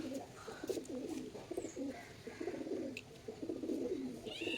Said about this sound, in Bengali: একজোড়া কালাঙ্কা পায়রা দেখাবো